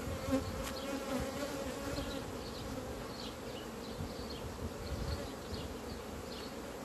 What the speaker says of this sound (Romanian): Este multă albină cu legătoare care vine